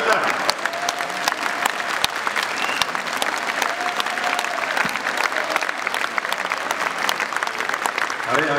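Audience at the premiere of the film "Islomxo'ja" breaking into sustained, loud applause, a dense field of many hands clapping steadily, with a few sharp individual claps standing out and faint voices underneath.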